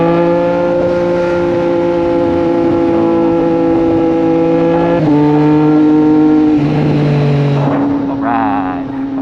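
Triumph Street Triple 765 RS motorcycle ridden on a humid road, its engine a loud, smooth steady drone that shifts pitch through gear changes and revs, with a brief rise near the end.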